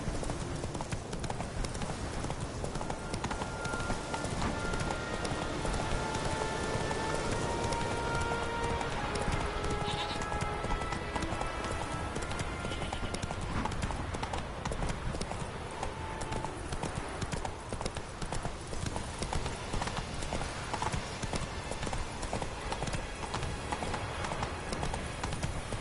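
Roach the horse gallops in The Witcher 3, hooves clip-clopping in a rapid, steady rhythm throughout, loud and continuous over ambient game sound.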